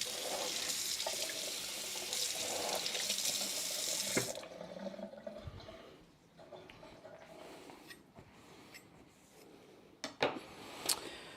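Kitchen tap running steadily as something is rinsed under it while cauliflower cheese bakes, the water hiss strong for about four seconds, then stopping, followed by quieter clatter and a few sharp knocks.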